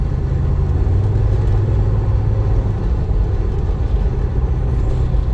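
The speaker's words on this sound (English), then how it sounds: "Seems to run and drive like a normal G-Wagon." A 2007 Mercedes G55 AMG G-Wagon driving on the road, its engine a low, steady rumble heard from inside the cabin with constant road noise.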